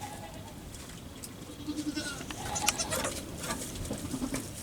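Young goats bleat in short, scattered calls at close range on a farm, mixed with bird chirps and light background noise, with some faint voices around them.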